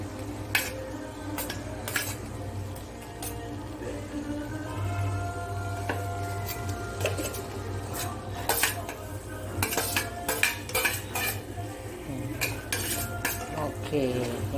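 Egg and paneer curry cooking in a pan, with steady soft clinks and scrapes of a utensil stirring against the pan over a low bubbling hum, close and continuous, no talking.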